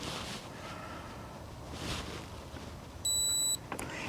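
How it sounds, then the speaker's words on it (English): An RV door lock alarm gives a single clear electronic beep lasting about half a second near the end, standing out against faint background hiss. "And you should hear that single beep."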